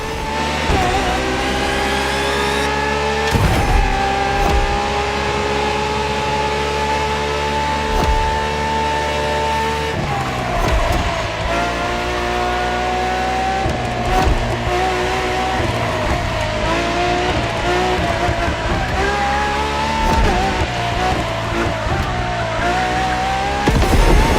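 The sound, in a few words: LaFerrari car engine revving in video game The Crew Motorfest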